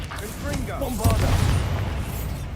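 Bombarda blasting-spell explosion in Hogwarts Legacy: a voice speaks, then a heavy boom breaks out into a low, rumbling roar that lingers to the end.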